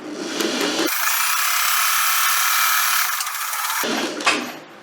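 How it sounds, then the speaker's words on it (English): A sewing machine runs one continuous straight stitch along tote bag lining, a loud close whirring motor lasting about three seconds, framed by brief handling noises before and after. "I'm just going to sew a straight line up, and it's going to give 2 individual pockets"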